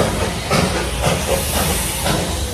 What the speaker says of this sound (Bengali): আর পেছন দিয়ে যাচ্ছে একটা টয় ট্রেন